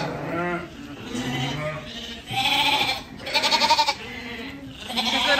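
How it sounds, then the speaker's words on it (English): Lambs and ewes bleat in a sheep pen, loud overlapping wavering calls of varying pitch from several animals close by, one after another with brief gaps. "we're gonna get a pen of lambs for now and separate the ewes off"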